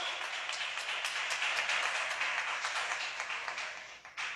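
A church congregation applauding together, a steady wash of many hands clapping at moderate distance that holds for several seconds and then tapers briefly near the end, with no voices over it.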